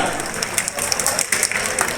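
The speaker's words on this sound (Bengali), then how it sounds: "শিক্ষক দেবু মল্লিকের জন্য জোরে হাততালি" An audience claps loudly for a retired teacher and former councillor at a Teachers' Day felicitation event in Diamond Harbour, a dense, continuous patter of many hands close by.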